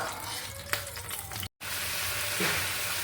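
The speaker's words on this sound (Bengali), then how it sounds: "এই যে আমি আমটাকে রান্না করে নিচ্ছি এই যে এটার মধ্যে দিয়ে দিচ্ছি চিনি আর এক চিমটি লবণ" Raw mango cooking in a pan with sugar and a pinch of salt gives a steady, close sizzle throughout, with a soft tap near the start and a brief dropout midway.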